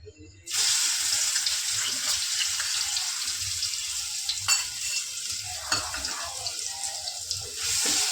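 Spice paste for a vaam (eel) fish dish drops into hot oil and fries with a loud, steady sizzle right after a quiet start, with a few louder stirring crackles along the way.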